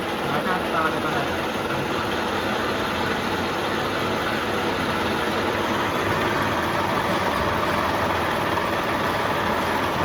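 A drilling machine runs in a workshop during a drilling lesson, giving a steady, loud mechanical drone with a broad hiss that holds unchanged for the whole stretch.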